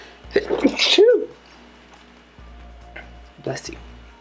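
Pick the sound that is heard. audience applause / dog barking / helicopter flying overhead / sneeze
sneeze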